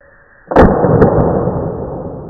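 A single loud 12 gauge shotgun blast firing a black powder Minie ball load, a sharp close report followed by a long rolling echo that slowly fades.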